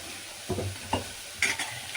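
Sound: stirring food in a frying pan

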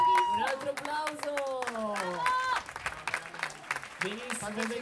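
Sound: audience applause

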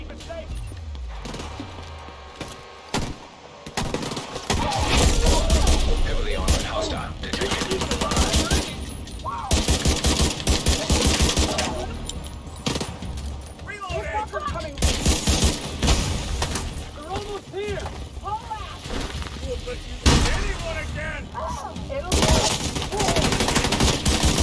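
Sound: gunfire from the video game The Division 2

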